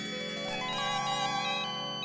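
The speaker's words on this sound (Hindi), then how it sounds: "अरे लेकिन वाकई में किसी का फोन बज रहा है भाई" A mobile phone ringtone plays as a steady melodic ring lasting a couple of seconds, clear and fairly loud with no talking over it.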